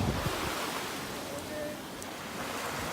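Waves wash in at the edge of an ocean beach with a soft, continuous surf hiss and some wind rumble. The sound is fairly quiet and steady over a few seconds.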